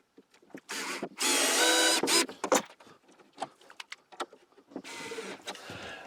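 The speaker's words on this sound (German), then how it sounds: "Aber ich schraube jetzt erstmal hier oben drauf dieses Brett" A cordless power drill drives screws through a wooden board in a home workshop, with loud sustained whirring bursts that stop and start, short ratcheting clicks, and handling knocks between them.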